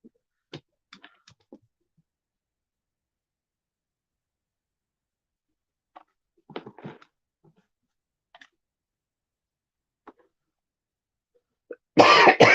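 A few short, quiet coughs are spaced out over near silence, and a louder, harsher cough bursts out close by at the end.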